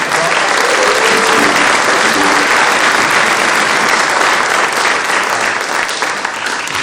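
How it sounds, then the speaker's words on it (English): Loud, dense applause from a concert audience after a college symphonic and jazz band performance, a steady wash of many hands clapping sustained throughout with scattered cheers. "Give them a big round of applause."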